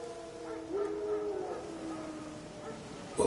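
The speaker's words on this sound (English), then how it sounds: "Wild dogs. Yes. More dangerous than wolves." A single dog howls in a long, wavering, drawn-out tone, fairly close, over a quiet background, ending in a sudden burst of noise.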